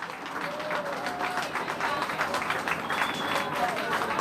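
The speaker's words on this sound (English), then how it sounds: "Let's give our committee who set this all up today a big round of applause." Audience applause fills a rally crowd, steady dense clapping holding for the full stretch with some crowd noise mixed in and no clear voice over it.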